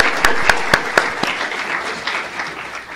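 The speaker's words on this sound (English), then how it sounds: "Let's give Bannan Institute a round of applause." An audience at a university institute's first event gives a round of applause, a dense burst of clapping with a few sharp individual claps that thins out gradually, heard up close without speech.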